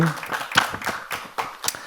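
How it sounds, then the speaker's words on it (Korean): A congregation claps during a Thursday night worship service in a Korean church, a loose scatter of hand claps rising and falling, with a voice briefly audible at the start. "은혜 주실 우리 하나님께 영광의 박수 올리겠습니다"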